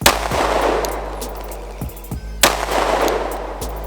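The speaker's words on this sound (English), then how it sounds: "I'm going to start with one of the most common handgun calibers, 9mm. This is Full Metal Jacket 115 grain" Two loud, sharp 9mm handgun shots, 115-grain full metal jacket rounds fired at a Level 3A body armor backpack panel, about two and a half seconds apart, each cracking close by and trailing off in a reverberant tail.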